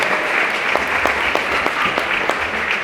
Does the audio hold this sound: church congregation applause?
yes